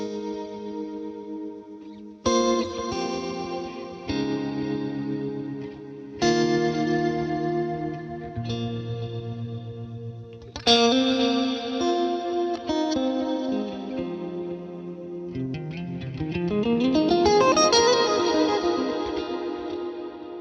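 Electric guitar through a reverb- and delay-heavy preset named Baseman's Fawn, set up for church playing: sustained, shimmering chords ring out one after another, each long tail washing into the next, building to a swirling, echoing swell near the end, with no voices.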